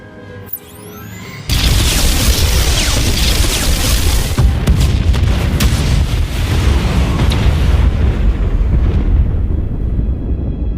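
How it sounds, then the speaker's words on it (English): Explosions blow out junctions in the SWTOR video game, a sudden loud burst after a short quiet opening, then sustained roaring, crackling blast rumble with scattered sharper bangs that slowly fade. "Step 1. Blow the junctions."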